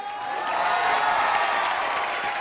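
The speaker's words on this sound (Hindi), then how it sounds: "जोरदार तालियां हो जाए हमारी नेहा के लिए।" Studio audience on a comedy show applauding for Neha, a brief swell of clapping and crowd noise that rises and holds steady.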